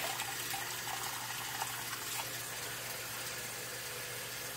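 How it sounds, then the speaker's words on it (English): Water runs steadily in a continuous broad hiss, warm tap water filling a container to submerge a gas mask for cleaning, with a low background hum and no voices. "you fill up the water until it is fully submerged under the water"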